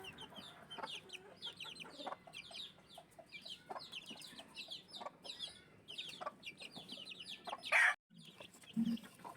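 Chickens peep and cluck continuously, a hen among her grown chicks, the young ones mostly cockerels kept from an early-hatched brood; many overlapping high chirps near at hand, with a louder squawk near the end.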